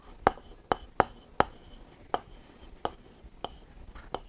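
Pencil compass scratching an arc on paper during a class 6 geometry lesson, a series of sharp, close ticking scrapes repeating at irregular intervals against a quiet background.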